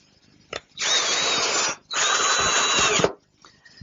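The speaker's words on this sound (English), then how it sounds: "secure it with a screw" A power drill drives a screw into a wooden flagpole guide, running in two sustained close whirring bursts of about a second each with a short pause between them and brief clicks around them.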